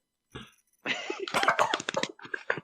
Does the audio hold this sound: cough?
yes